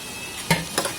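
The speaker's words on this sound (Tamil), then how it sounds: "அதையும் போட்டு இதில் நல்லா ஃப்ரை பண்ணிக்கலாம்." Chopped onions fry in hot oil with ginger garlic paste, a soft continuous sizzle broken by two quick stirring scrapes close by.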